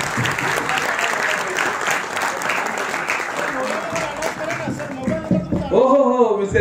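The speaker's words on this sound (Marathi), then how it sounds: "एकदा जोरदार टाळ्या पुन्हा एकदा." An audience claps steadily and loudly after a speech at a public gathering, the applause thinning toward the end as a voice begins talking over it.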